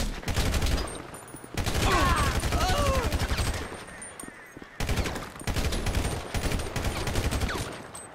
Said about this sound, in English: We're receiving fire.